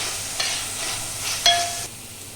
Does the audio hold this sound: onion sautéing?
yes